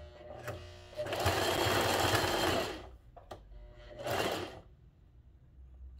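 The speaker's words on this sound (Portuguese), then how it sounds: "Ó, venho aqui e vou costurar" Sewing machine stitching fabric for a tabletop scarecrow candy holder, two loud bursts of fast, steady whirring and needle clatter about two seconds and one second long, with a few short clicks in the pause between.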